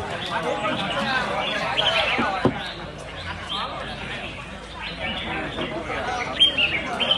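Competition birds at a songbird contest in Vietnam chirp and call throughout, with steady crowd chatter and voices underneath.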